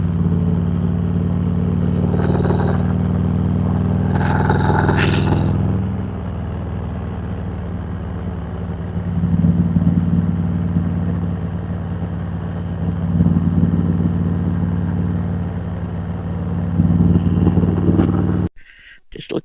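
Motorcycles ride past on a road by a scenic roadside attraction, with a steady, loud engine rumble close by, a couple of brief high revving passes, and later swells as more bikes go by.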